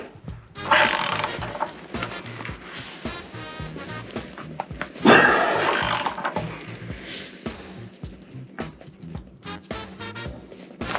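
A ratchet with a 1 1/16 socket tightens a water heater anode, producing rough clicking and scraping mechanical bursts nearby with a couple of louder grinding pulls.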